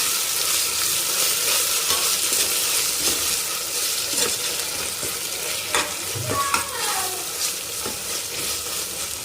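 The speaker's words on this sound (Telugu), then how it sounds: "అల్లం పేస్ట్ పచ్చివాసన పోయేంత వరకు బాగా వేసుకోవాలి" Ginger paste with mint and coriander fries for a chicken dum biryani, giving a continuous bright sizzle broken by intermittent stirring scrapes, close and steady, with no talking.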